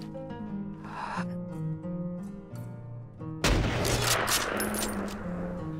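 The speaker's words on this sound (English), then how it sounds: "The last gun is called a testicular rifle." A large rifle from a Skyrim weapon mod fires in the game. Quieter tonal game sounds come first, then a loud crack of gunfire with a dense burst that rings on.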